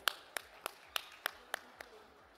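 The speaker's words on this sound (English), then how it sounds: "Ladies and gentlemen, a warm round of applause." Audience clapping at the Prime Time Awards 2023 ceremony, a sparse handful of distinct, evenly spaced claps, fairly faint and without any talking over them.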